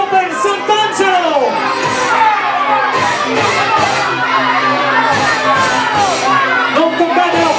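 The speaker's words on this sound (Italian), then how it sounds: "Forza ragazzi, fate il tifo per Sant'Angelo." Crowd and children cheering and shouting loudly at a palio rope-pulling contest, a continuous dense roar of many close voices with rising whoops throughout.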